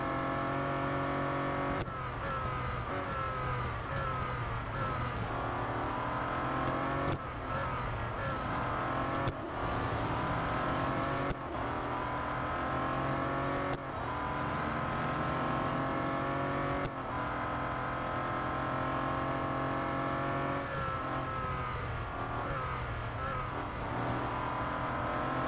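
A Bentley Continental GT Speed races in Real Racing 3, its engine droning and shifting pitch continuously through acceleration and gear changes, loud and constant over the whole lap with no talk.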